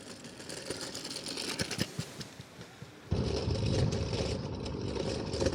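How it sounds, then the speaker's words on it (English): An AOVO OOK-TEK V8 electric scooter with non-inflatable tires rides over rough terrain, giving a steady close rattling and clattering that grows louder and denser partway through, with no voices. "all of this when you ride on the rough terrain creates so much noise."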